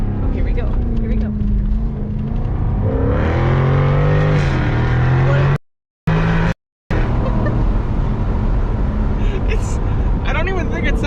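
A 2022 Lexus LC 500 Convertible engine revving and accelerating loudly with rising pitch, under people talking and laughing, with two brief cuts to silence midway.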